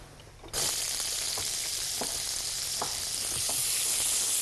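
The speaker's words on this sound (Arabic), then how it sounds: "معلقه سمنه او زبده، اهو. انزل البصل بتاعي" Onions frying in ghee or butter in a pan, a steady loud sizzle that jumps in suddenly after a quiet half-second, with a few soft stirring clicks and no talk.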